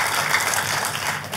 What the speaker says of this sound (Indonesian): Tepuk tangan yang meriah buat Tuhan kita.